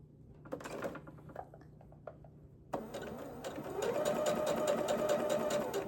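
A sewing machine stitches a gathered sleeve in quick bursts: a few short runs of needle clatter, a pause, then a sustained close whirring stitch that builds and holds steady to the end.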